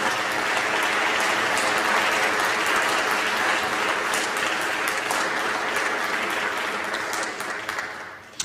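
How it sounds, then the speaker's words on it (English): A lunchtime concert audience in Sacramento, California gives a final round of sustained applause. Full, even clapping holds for several seconds, then eases off and ends with a single sharp clap. "and one more last applause."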